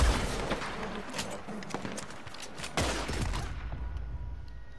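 Gunfire in Red Dead Online crackles as a scattered volley of sharp shots at uneven intervals, some nearer and louder, one heavier blast late on, over a low background rumble.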